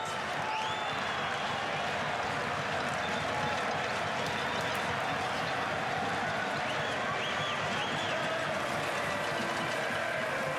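A crowd at a nighttime World Baseball Classic game between Venezuela and Puerto Rico at Dolphin Stadium in Miami keeps up a steady roar of cheering and clapping, loud and continuous throughout.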